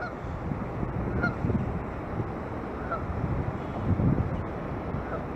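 Ducks and a seagull calling over a flooded area on a windy day, a few short honking calls spaced out over steady wind noise buffeting the microphone.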